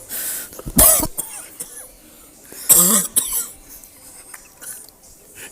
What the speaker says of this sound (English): Sounds like you're getting the 100-day cough.